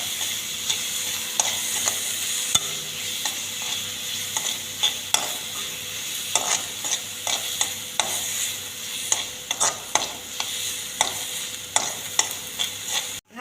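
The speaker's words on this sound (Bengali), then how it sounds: "পেঁয়াজ কুচি আর কাঁচা লঙ্কা দুটো চিড়ে দিয়ে দিলাম। ভালো করে ভেজে নেব।" Chopped onion and slit green chillies fry in hot oil in a pan, a steady sizzle broken by regular scraping knocks of a spatula as they are stirred.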